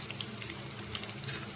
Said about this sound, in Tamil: பச்சை மிளகாயும் போட்டு நல்லா செவக்க வச்சுக்கணும்.